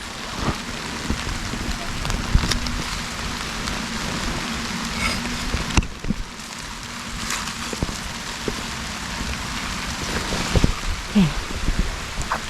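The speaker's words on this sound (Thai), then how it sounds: "ฝนตกทุกคน" Steady rain pours down in a Wisconsin forest, a dense hiss of drops pattering on leaves and ground, with occasional voices nearby.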